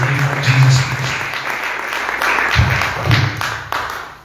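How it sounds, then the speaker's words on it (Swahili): A church congregation applauds together as a new reverend is welcomed, a steady wash of many hands clapping at moderate loudness with a few louder low thumps near the end. "Tumpigie Baba makofi mazuri."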